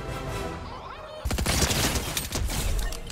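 Rapid bursts of gunfire in the Fortnite video game, aimed at a llama, with a dense crackling volley that starts abruptly and stays loud and continuous to the end.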